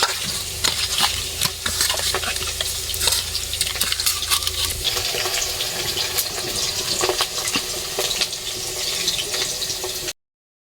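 Diced potatoes frying in a wok give a continuous sizzle, with frequent stirring scrapes and clicks layered on top, fairly close and unaccompanied by talk.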